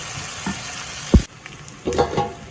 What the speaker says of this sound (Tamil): பச்சை மிளகாய் பூண்டு ரெண்டையும் போட்டுட்டு கிளறுவோம்